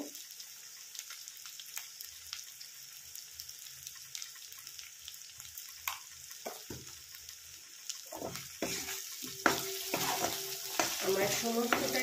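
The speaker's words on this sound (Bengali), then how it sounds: "আলুটাও মোটামুটি ভাজা হয়ে গেছে" Potatoes sizzle and crackle in a hot pan with chilli powder added, with occasional stirring scrapes and clatters growing louder toward the end.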